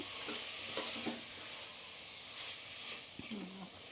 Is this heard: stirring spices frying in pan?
yes